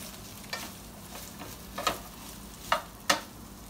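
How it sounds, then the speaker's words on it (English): Onions being stirred in a frying pan, with a few scraping clicks from the spoon against the pan over a soft, steady sizzle, close and fairly quiet. "Give everything a good stir."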